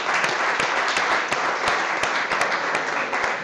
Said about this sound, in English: Let's start off giving a good round of applause for our main sponsor, Florida Blue.